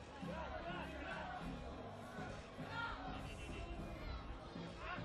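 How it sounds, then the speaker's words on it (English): Russian fans make noise in the crowd at a Spain versus Russia beach soccer match, a distant, steady roar of voices and chatter running throughout without a break. "The Russian fans in the crowd doing their best to make some noise"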